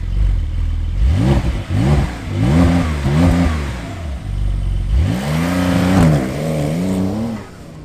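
Porsche 911 Dakar of the 992 generation driven hard on dirt tracks through fields, its engine close and loud, revving up and falling back in repeated surges.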